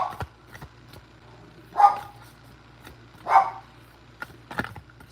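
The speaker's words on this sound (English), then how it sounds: "Sorry about the dog." A dog barks indoors in three or four separate sharp barks spaced about a second apart, fairly close and moderately loud over a quiet room hum, with no talking.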